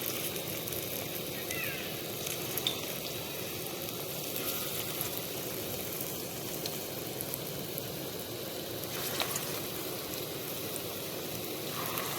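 Radish pakoras frying in hot oil, giving a steady, even sizzle and bubbling that carries on without a break, fairly quiet and close, with no talking over it.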